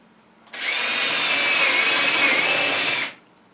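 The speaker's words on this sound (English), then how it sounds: "Let's drill it out." An electric drill runs steadily for about two and a half seconds drilling out a threaded hardware stem, a loud continuous whine with a slight pitch shift near the end before stopping.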